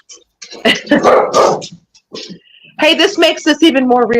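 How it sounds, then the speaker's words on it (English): A dog barks and yips several times in short bursts, close by, mixed in with people talking over it. "See, now my dog is going to start barking."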